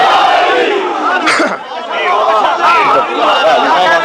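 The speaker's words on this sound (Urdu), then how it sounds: "دونوں ہاتھ بلند کر کے نعرے حیدری حیدری حیدری" A large crowd at a Shia religious gathering shouts the Haidari slogan in unison, a loud, massed roar of voices that surges in repeated waves and fills the space throughout.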